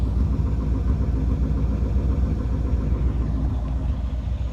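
A 1978 Chevrolet Corvette C3 Pace Car runs steadily with a deep, continuous engine and exhaust rumble, close and loud, holding an even idle-like drone throughout with no talking.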